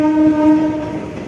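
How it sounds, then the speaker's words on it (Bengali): A Dattapukur–Sealdah local train arriving at Dum Dum station sounds a loud, steady horn blast lasting under a second, then a low rumble of the approaching train continues. "4 নম্বরে আসছে দত্তপুকুর শিয়ালদা।"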